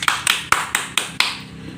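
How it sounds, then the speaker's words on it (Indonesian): Applause for a class history presentation by a Year 10 group, heard as about six distinct sharp claps spaced evenly, fairly close, each followed by a short decay. "Terima kasih kepada Agung Anugrah, di tepuk tangan yang meriah."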